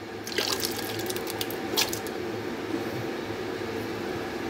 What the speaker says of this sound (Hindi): पानी भी मैंने डाल दिया